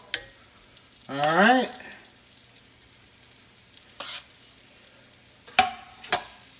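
Chicken breasts sizzle and crackle in a hot pan, with sharp bursts of frying as pieces are moved, and a person speaks briefly.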